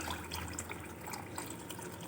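Liquid kadhi mixture of gram flour, yogurt and water pours steadily into a pan of roasted spices, a continuous close watery splashing with no talk.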